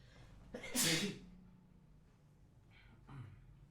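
One loud, close sneeze bursts out sharply and fades, followed by quiet breathing and a softer breathy snort near the end.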